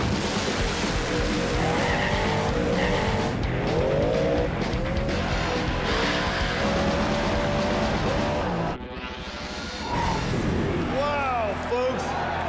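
A race car roars at high revs through an invitational racing round, its tires screeching and skidding as it nearly wrecks. The loud engine stays constant throughout, a sharp squeal rises toward the end, and a commentator's voice is faintly mixed in.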